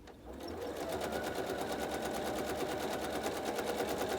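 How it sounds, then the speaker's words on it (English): A sewing machine stitches over the center of a fabric bow, a steady fast mechanical rattle of evenly spaced needle strokes running continuously and close, with no talking. "if you were to stitch over the center section a bit, so we'll just do that now"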